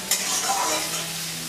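Chopped tomato frying and being stirred in a pan for a sour and spicy pumpkin curry, a steady close sizzle with a scraping stir near the start, alone with no voices.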